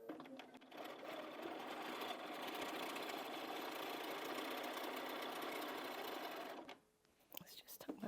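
A sewing machine quilts a cushion in one long, steady, whirring run of rapid stitching, close and loud, then stops, leaving a few faint handling clicks.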